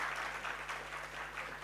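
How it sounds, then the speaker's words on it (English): Summer course attendees clap for the University Putra Malaysia group in a short, faint burst of crowd applause, even and steady for under two seconds. "give applause to UPM"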